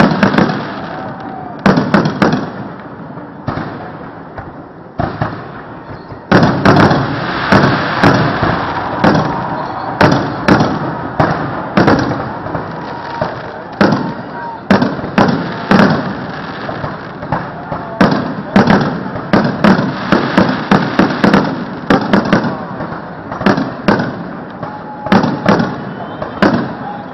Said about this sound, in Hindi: अब आतिशबाजी नजारे विधानसभा भवन के ऊपर।